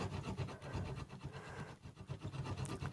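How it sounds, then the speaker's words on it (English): A rasp draw-filing a wooden pull-saw handle, producing quiet, close, repeated rough rasping strokes in a steady back-and-forth rhythm. "I'm literally draw filing now. I'm draw filing with a rasp."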